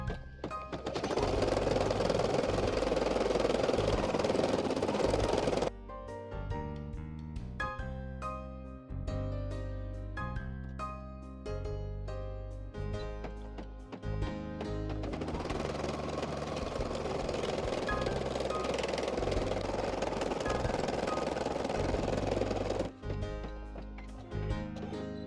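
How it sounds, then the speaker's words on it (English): An embroidery machine stitches an appliqué onto a t-shirt in a multi-positional hoop, giving a steady, loud, rapid mechanical chatter that drops briefly into a sparser rattling before resuming at full pace, with no voices. "The machine just finished to embroider."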